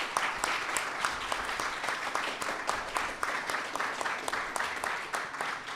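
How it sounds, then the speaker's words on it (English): An audience claps for the readers at a BC and Yukon Book Prizes evening event with the Vancouver Public Library. The applause is lively and sustained, with many crisp individual claps standing out from the crowd and no talk over it. "let's give one more round of applause for all of our readers this evening"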